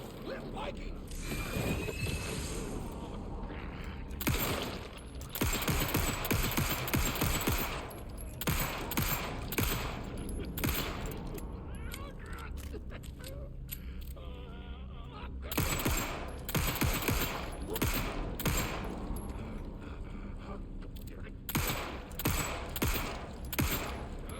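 Rapid, dense bursts of gunfire in Alan Wake II, clattering mechanical shots and creaks repeating in clusters with brief lulls, loud and close over the game's dark ambience.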